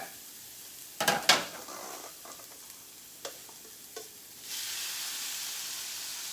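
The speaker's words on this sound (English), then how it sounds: "You hear that sizzle?" Chicken sizzles quietly in a hot pan on medium-high heat, with a few clattering utensil knocks early on, then the frying hiss swells louder and steady.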